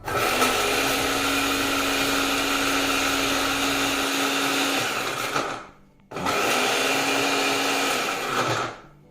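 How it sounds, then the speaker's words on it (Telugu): A kitchen mixer grinder whirs loudly while grinding spices for chili powder, running steadily for about five seconds, pausing briefly, then starting again for a second burst. "ఇది కొంచెం ఒక రౌండ్ తిరిగి తిప్పిన తర్వాత కొంచెం పొడి అయిన తర్వాత అప్పుడు నువ్వు పప్పు వేసి మళ్ళీ ఒక్కసారి మిక్సీ తిప్పుకుందాం"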